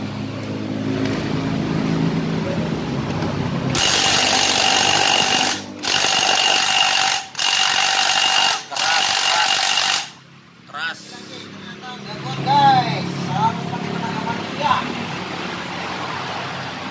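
Pneumatic impact wrench loosening the rear wheel bolts on a Honda Scoopy scooter during a pulley bearing repair, loud sustained bursts cut by short pauses, then quieter clinks and shop noise afterward.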